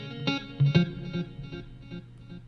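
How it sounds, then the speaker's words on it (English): A guitar plays short, sparse notes through a vintage reverb effect with a touch of distortion, each pluck ringing and trailing off quietly, used in an afro soca track. "the vintage reverb is giving me a nice sound"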